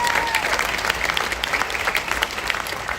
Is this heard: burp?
no